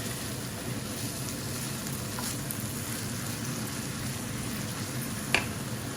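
Sliced radish frying in hot oil in a home kitchen, a steady dense sizzle throughout with a brief clink near the end, no talk.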